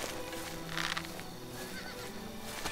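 A horse in the video game Oblivion lets out a clear, fairly quiet whinny, with faint clip-clop hooves and game ambience around it.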